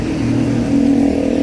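A bus engine revving, a steady mid-pitched drone that swells slightly louder partway through the short stretch, heard close and alone.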